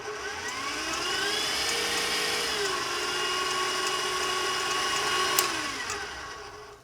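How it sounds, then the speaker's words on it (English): A stand mixer whips egg yolks on low speed in a mixing bowl for chocolate mousse, giving a steady whirring motor hum with slight pitch shifts, close and continuous, no voices. "Back in the mixing bowl, start the process of whipping the yolks on a low speed."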